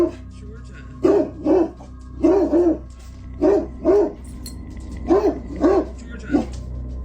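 A dog named Georgia barks anxiously in short, tonal bursts, mostly in pairs, indoors near a hanging oil portrait, standing at the room's edge; the barks are fairly close and loud over a low steady hum.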